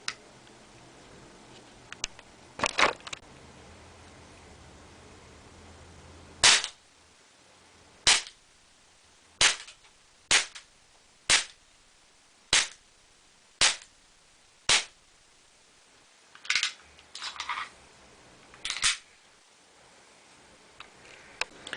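A KWC Luger P08 CO2 pellet pistol fires a string of sharp, close pops, about eight evenly spaced shots with brief handling clicks and rustles before and after.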